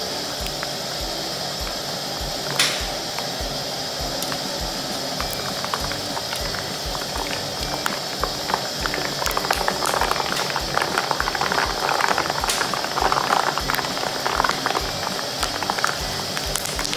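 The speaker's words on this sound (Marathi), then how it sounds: "तेल गरम झाले तर पहिल्यांदा आपण शेंगदाणे तळून घेणार आहोत" Peanuts fry in hot oil for a Diwali diet chivda, giving a steady, close crackle and bubbling fizz that grows busier partway through, with an occasional sharp tap and no voices.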